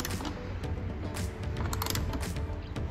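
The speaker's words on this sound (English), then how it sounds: "13 millimeter socket to tighten the lower bolt" A ratchet with a 13 mm socket tightening the lower bolt of a seat angle bracket in a Porsche 992 GT3 makes steady, close mechanical clicking and grinding that runs the whole time, with no talking.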